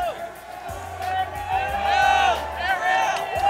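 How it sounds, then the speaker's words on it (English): A crowd whoops and cheers at a UFC fight press conference in New York, rising and falling in bursts around a loud amplified voice and a low rhythmic thump. "listen to this crowd"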